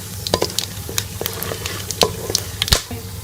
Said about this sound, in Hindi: इसमें हम ये साबुत जो है खड़े मसाले ये डाल देंगे और इसे 1 मिनट के लिए हम रोस्ट कर लेंगे।